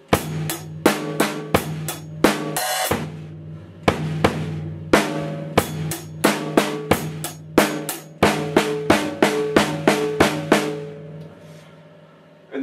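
A drum kit plays a steady groove with an open hi-hat at a moderate tempo: crisp, evenly spaced hits, a brief open-hat wash, and a short pause midway, heard clearly on its own.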